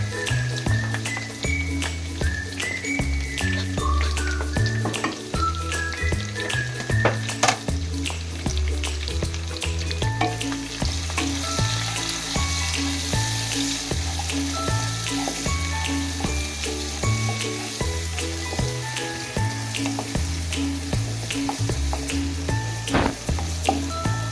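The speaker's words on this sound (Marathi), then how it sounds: "आपण या स्टेजवर टाकू कांदे." Onions added to garlic frying in a pan, a continuous moist sizzle and sputter at close range, partly under a steady rhythmic background tune throughout.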